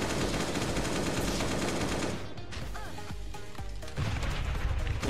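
Dense, continuous gunfire and launcher blasts from a video game boss fight against a necrotic hybrid, rapid automatic bursts running loud throughout with a brief explosive thud midway.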